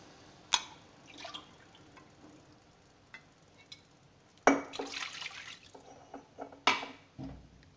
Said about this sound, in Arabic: نديروا لها حوالي 2 كيسان ماء